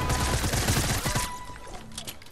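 Gunfire in the Fortnite video game: rapid bursts of loud shots crackle close for a little over a second, then trail into fainter scattered pops and echoes.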